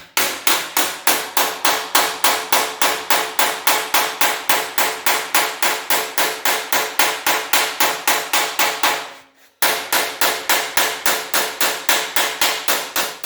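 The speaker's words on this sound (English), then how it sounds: "So I'm hammering it down to a smaller roll right here because I want to have a tight lip on the bottom side of it." A hammer pounds an 18 gauge sheet metal drip rail strip for a rusty drip rail replacement, with rapid, evenly spaced loud blows, close up, broken by one short pause before the steady hammering resumes.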